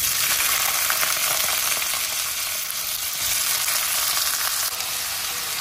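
Potato pieces frying in hot oil for sago upma, a dense, steady hiss and crackle of sizzling oil that carries on evenly from start to finish, close up and with no voices.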